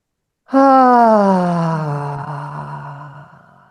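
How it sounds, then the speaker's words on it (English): A single long, deep breath drawn and let out slowly in a calm guided breathing moment, a close voiced exhale that starts firmly and gradually fades over a few seconds, with no talking. "Let's take a deep breath together"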